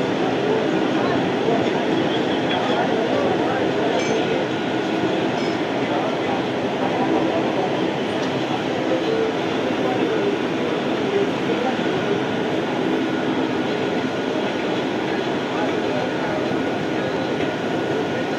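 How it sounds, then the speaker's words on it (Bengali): A Jaynagar–Kolkata summer special train running late on the Sealdah line rolls past with a steady, loud rumble and wheel noise that holds unbroken throughout. "আর এদিকে এটা যাচ্ছে জয়নগর কলকাতা সামার স্পেশাল গাড়ি"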